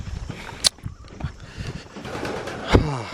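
Pigeons in a young bird loft, with soft cooing and scattered wing and movement sounds nearby, a sharp flutter burst early and another near the end.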